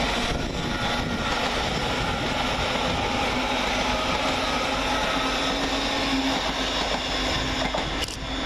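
An LNER Class 801 train at Peterborough station passes close by, a loud, steady rolling rumble and hiss of wheels on rail with brief rattling clicks near the end, no voices.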